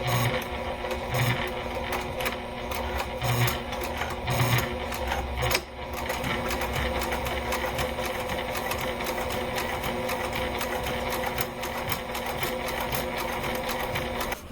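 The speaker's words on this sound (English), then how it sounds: "stitching through the flap and the back of the flap and the" Sewing machine stitching through a wallet flap, the back of the flap and the strap, running steadily and continuously throughout with a rapid mechanical chatter, close and fairly loud, a few brief heavier thumps early on.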